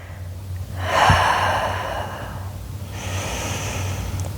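A person takes deep breaths while holding a stretch during a booty and arm toning workout: one long inhale and exhale, then a second slower breath, close and clear.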